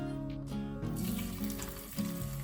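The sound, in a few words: oil and crushed ginger frying in a pan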